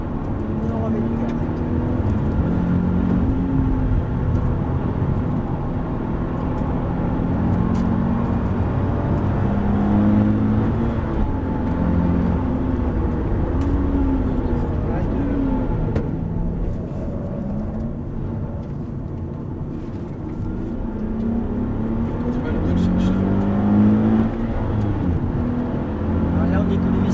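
A Nissan 370Z accelerates hard around the Dreux circuit on a driving course, its engine note steady and close, rising and falling with throttle while a driving instructor talks over it throughout.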